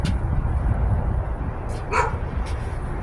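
A dog barks two or three short, sharp times near the end, fairly close, over steady background noise.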